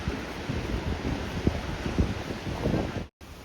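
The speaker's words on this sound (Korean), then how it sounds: "시원한 파도 소리" Ocean waves washing along the rocky Samcheok coast beside a seaside walking path, a steady windy rush of surf with a few louder surges, close and continuous before cutting out abruptly near the end.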